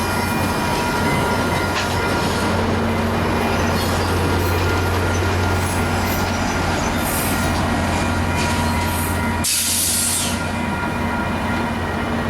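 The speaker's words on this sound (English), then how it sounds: "Utah Transit Authority train coming back." A Utah Transit Authority train passes in Salt Lake City with a steady loud rumble, a low drone and clattering wheels throughout, and a brief squeal near the end.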